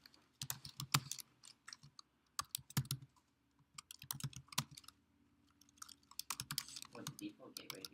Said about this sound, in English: I'm even typing tab as I'm typing this